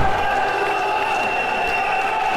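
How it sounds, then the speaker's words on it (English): Wrestling arena crowd roaring and cheering wildly during a tag team match, a dense, steady wall of loud crowd noise that holds throughout with no clear individual voices. "The crowd going absolutely wild now"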